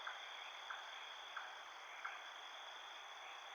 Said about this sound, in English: I hear crickets in the game